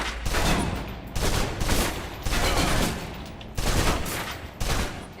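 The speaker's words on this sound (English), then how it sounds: "Now, let's move on to the submachine gun. Now let's empty the clip." A submachine gun in the Alpha Protocol video game emptied on full auto: five dense bursts of rapid gunfire, each about a second long and separated by brief gaps, loud and close, with no talking.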